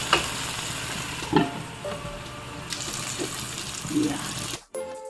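Pepper fish frying in a pan, a steady close sizzle with a few scraping stirs and clinks, ending in a brief clatter.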